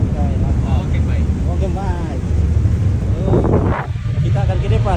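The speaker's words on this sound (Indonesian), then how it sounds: "Hebat sekali angin di depan" Strong wind buffets the microphone at the front of a boat out on the water around Sydney, a steady low roar running the whole time beneath people talking.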